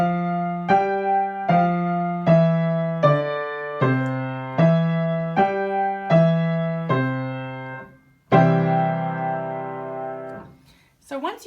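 Keyboard playing five-finger patterns in C with both hands together, a steady sequence of repeated note groups in an even rhythm, close and clear, ending with a sustained chord and a brief scrape.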